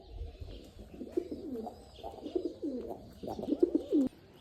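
Several pigeons coo while eating, soft throaty rolling calls repeating in clustered bursts, close by and with no voices.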